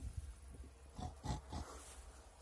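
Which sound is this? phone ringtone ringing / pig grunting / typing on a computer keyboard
pig grunting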